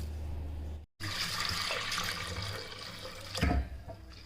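Running water splashes steadily under a tap while lentils are washed, briefly cutting out and then resuming, with a swirling rinse and a louder gush near the end.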